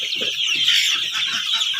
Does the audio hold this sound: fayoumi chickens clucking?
yes